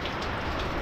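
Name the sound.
rain falling at a construction site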